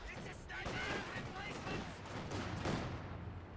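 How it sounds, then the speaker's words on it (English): Sniper rifle fire in Company of Heroes 2, a dense wartime battle mix of sharp shots and rumbling gunfire bursts, fairly faint and continuous, with a voice talking over the action. "Sniper firing away."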